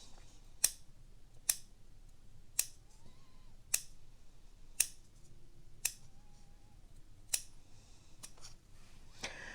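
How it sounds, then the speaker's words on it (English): Scissors cutting faux leather snip in sharp, evenly spaced clicks, about one per second, in a quiet room with faint background noise. "And now I take my scissors."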